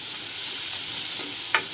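Onion and green chili sautéing in a pan, a steady hissing sizzle with a few soft stirring scrapes, close and even, no voices.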